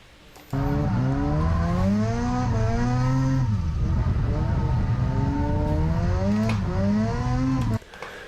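A Mazda RX7 FD3S rotary engine drifting at a track, revving hard through rising and falling pitch as it picks up speed and downshifts to second, loud and continuous.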